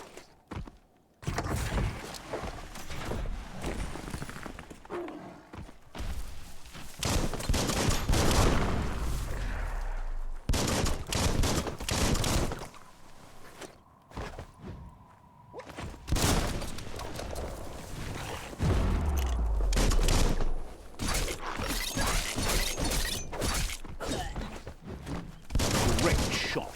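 Gunfire in the video game Biomutant, a run of loud rapid bursts and single shots in clusters separated by brief pauses, with footsteps and impact thuds mixed in.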